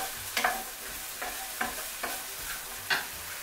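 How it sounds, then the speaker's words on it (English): Chopped onion frying in a pan for a vegetarian shepherd's pie, a soft steady sizzle broken by five or six scraping stirs of a spoon at uneven intervals, close and fairly quiet with no voices. "give it a good stir and just fry those off"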